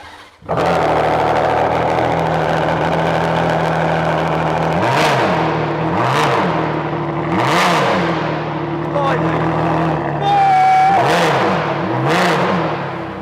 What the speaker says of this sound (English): let's hear this 6 litre V12 in all its glory